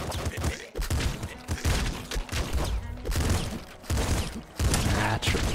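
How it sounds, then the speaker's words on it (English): Machine gun in the top-down shooter Nuclear Throne, dense rapid gunfire rattling almost continuously in choppy bursts with brief gaps, loud and close, with a voice speaking briefly. "Machine gun."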